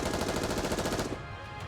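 Rapid gunfire from a weapon jammed into a monster's throat during a Nikke video game cutscene, a dense burst of loud repeated shots that cuts off abruptly partway through, leaving a rumbling tail.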